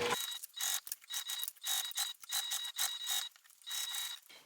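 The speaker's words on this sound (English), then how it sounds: "I'm going to top stitch first, and I'm going to kind of be applying some pressure to keep those seams laying flat while I top stitch from one" A sewing machine top stitches fabric seams on a waist bag in short bursts of rapid mechanical clatter separated by brief pauses, close and fairly loud with no talking.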